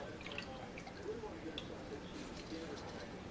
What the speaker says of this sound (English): I'm going to go ahead and add 2 cups of water to my pot.